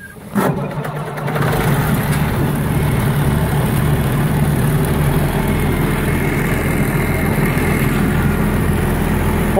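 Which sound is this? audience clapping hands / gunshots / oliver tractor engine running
oliver tractor engine running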